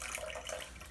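Water siphons from a WaterBOB emergency storage bladder through a hose into a pitcher, a steady close trickling splash with no break, heard alone.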